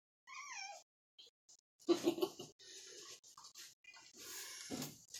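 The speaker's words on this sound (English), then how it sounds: "My cat wants to get out." A pet cat meows indoors in a few short, close calls, first a clear rising meow and then brief bursts, with a person talking and handling things in between.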